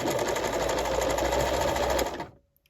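A sewing machine stitches a buttonhole in a steady, fast mechanical whir of rapid needle strokes that runs continuously, then winds down and stops near the end.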